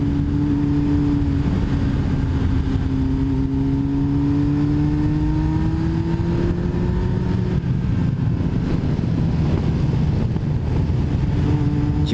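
A Yamaha XJR 1300 motorcycle engine roars loudly and steadily, its pitch climbing gradually as it accelerates, with no voices present.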